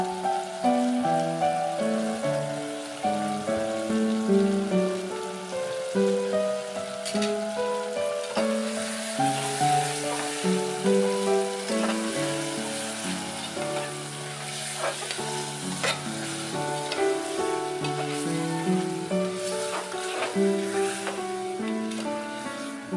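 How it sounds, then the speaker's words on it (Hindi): Marinated mutton fries in a pot for pulao, giving a steady, close sizzle that crackles continuously throughout with no talking. "अब मटन दे देंगे, मैरिनेटेड मटन।"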